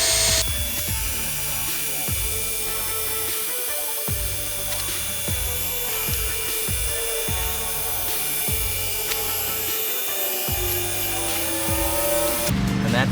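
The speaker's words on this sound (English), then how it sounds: "We'll polish it up." A car headlight is buffed with polishing compound under a steady, loud motorized whine from the polisher, broken by rhythmic dips as the pad is pressed and moved across the lens.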